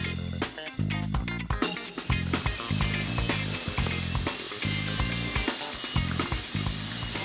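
Hand mixer beating a sugar mixture, a continuous motor whir with rhythmic pulsing and scraping against the bowl throughout.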